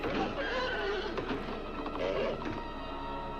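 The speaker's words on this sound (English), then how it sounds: "Who let the horses out?" Horses neigh and whinny in a 1963 horror film, The Terror, shrill calls over a dense, noisy background that holds steady throughout.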